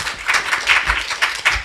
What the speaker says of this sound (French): je crois qu'ils ont bien mérité qu'on les applaudisse pour leur intervention.